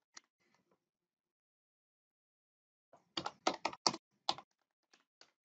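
Keys clatter on a computer keyboard: a couple of faint taps, a long silence, then a dense burst of crisp, close keystrokes, with no one speaking.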